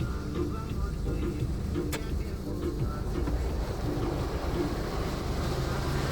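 Rinse water sprays steadily over a car inside an automatic car wash, a dense continuous hiss and rush heard from within the vehicle, with faint voices beneath.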